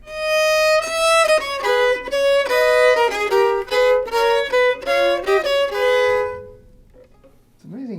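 Two Bach themes sounding together on a single violin, bowed double-stop lines moving in close, bright harmony for several seconds before fading, after which a voice begins speaking.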